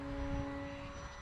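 RC trainer airplane flying overhead outdoors, a faint steady whine of its small propeller engine with two sustained tones, distant and continuous.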